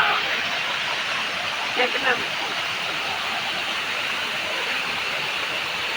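A waterfall on the Chintapalli to Sileru route roars in a constant, dense rush of water, with a couple of faint brief sounds briefly rising above it.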